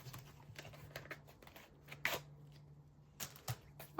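A scratch-off loyalty card is rubbed with short, dry scratching strokes in irregular bursts, close and quiet over a faint steady hum.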